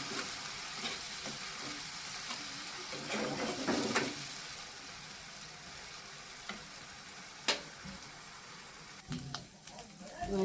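Chopped onion fries quietly in oil in a pan, a soft continuous sizzle broken by the scrape and tap of a spatula stirring, with a few sharper knocks.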